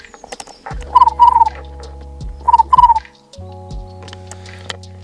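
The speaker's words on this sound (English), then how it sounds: "Can you hear the birds?" Two short bursts of bird calls ring out over a low mechanical hum, separated by a brief pause.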